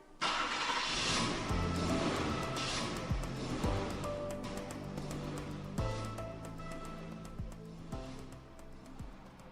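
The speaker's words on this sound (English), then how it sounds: "this is how the road is looking like in terms of traffic, our focus being on Thika Superhighway." Road traffic on Thika Superhighway in Kenya on a morning, a steady broadband wash of passing cars and engines with occasional louder vehicles going by, continuous and moderately near, with no talking.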